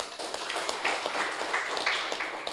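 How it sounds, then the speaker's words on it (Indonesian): A live audience applauds for NU (Nahdlatul Ulama) at a talk, a steady, dense wash of many hands clapping that holds evenly for a couple of seconds. "Tepuk tangan untuk NU."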